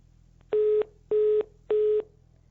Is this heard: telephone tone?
yes